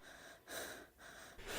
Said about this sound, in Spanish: respirando entrecortada